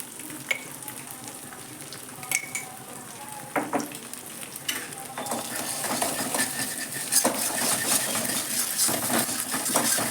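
A fork scrapes and clinks against a hot pan while egg and soya chunk fried rice is mixed, with rapid metallic taps and a sizzling, frying undertone growing busier over time.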